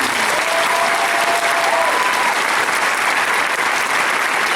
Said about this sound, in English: Lead us in a round of applause for our volunteers.